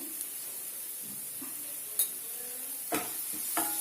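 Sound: stirring frying potatoes with turmeric in a pan

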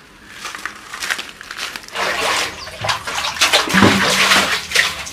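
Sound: water being drawn and poured

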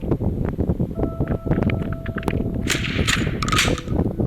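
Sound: gunfire in the video game Mini World

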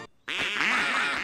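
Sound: cartoon biker dogs quacking like ducks

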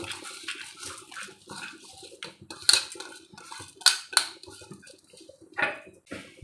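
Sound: washed basmati rice added to pan and stirred

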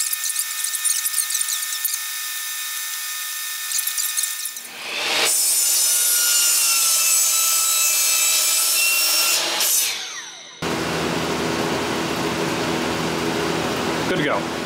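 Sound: sawing the snipe off a pallet wood board

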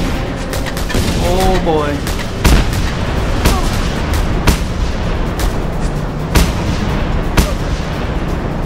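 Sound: slow turret firing in video game Just Cause 2

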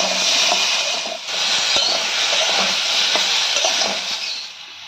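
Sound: vegetables frying in a pan with turmeric and salt

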